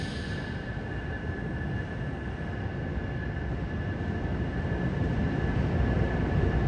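Amtrak Keystone train rumbling into New York Penn Station, a steady loud low roar with a faint high whine, continuous and close throughout with no talk.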